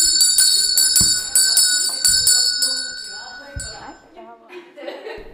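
Bell rung to call afternoon coffee, a series of bright ringing strikes with long overlapping shimmering tones that fade toward the end, with faint voices under it.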